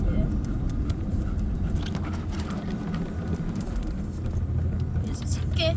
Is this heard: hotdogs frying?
no